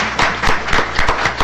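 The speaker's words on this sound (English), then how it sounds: "Let's give a round of applause to Melvin Van Wagner." A small group at a school board meeting claps for Melvin Van Wagner: a short burst of distinct, evenly paced hand claps over a light background wash, close and fairly loud.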